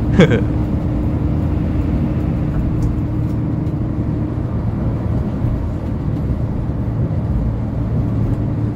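PO Blue Line intercity bus on the Solo to Jakarta route, heard from inside the cabin: a steady low engine and road rumble, continuous and fairly loud, with a brief clatter near the start.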